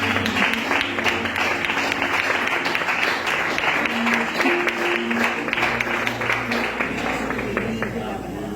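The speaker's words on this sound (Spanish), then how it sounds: "Dale un aplauso al Señor." A church congregation applauds the Lord during a Spanish-language sermon, sustained dense clapping from many hands with singing or voices and a low musical drone continuing beneath it.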